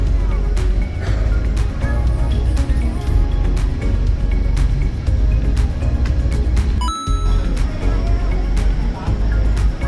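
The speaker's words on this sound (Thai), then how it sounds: "เป็นไงครับเรือออกแล้ว" Ferry under way across the Gulf of Thailand toward Koh Chang, its engine a constant low rumble on deck with wind and nearby voices layered over it.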